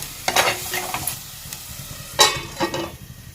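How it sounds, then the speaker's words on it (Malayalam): Close sizzle of tomatoes and green chilies frying in a pan, broken by scraping stirring strokes, a few louder bursts of spatter between them. "അപ്പോൾ ഇതെല്ലാം കൂടി നമുക്കൊന്ന് വറുക്കാം."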